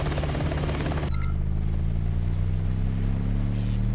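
Apache helicopter in the combat game Hostile Waters: Antaeus Rising, a steady low rotor drone with a constant engine hum across the whole clip, fairly loud and with no talk.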